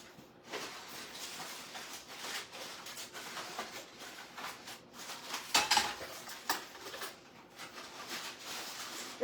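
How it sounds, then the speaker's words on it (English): A whisk scrapes and taps around a pan of gravy in an irregular, fairly quiet rhythm, with a sharper metallic clink in the middle. "This is my favorite whisk that I have ever used to make gravy"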